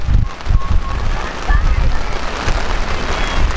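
Heavy rain pours down at an outdoor high school track meet along with gusting wind, a steady loud wash of rain noise and low wind rumble, with faint voices in the background.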